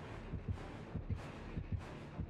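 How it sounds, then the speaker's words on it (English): Killer's heartbeat warning in the horror video game Dead by Daylight: a steady, muffled double thump repeating about once a second, low and throbbing over a faint ambient hiss. "I can hear the heartbeat."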